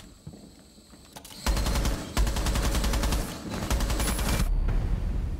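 Rapid gunfire in Rainbow Six Siege, with dense automatic bursts that start after a quiet opening, break briefly, then resume loud and sustained, ending in a short pause before more shots.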